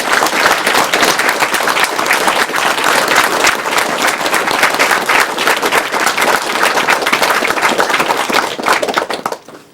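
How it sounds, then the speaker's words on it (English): Steady, loud applause from the Awesome Games Done Quick 2013 marathon audience rolls on continuously, then tapers off and fades out at the very end. "you guys deserve a big round of applause"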